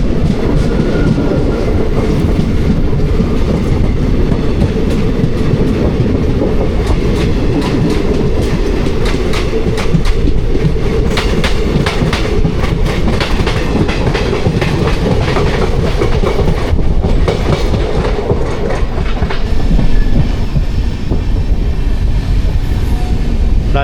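An Indian Railways passenger train of ICF coaches hauled by a WAP-4 electric locomotive runs steadily at a station approach, with a loud, continuous rumble and clickety-clack of wheels over rail joints throughout, no talking.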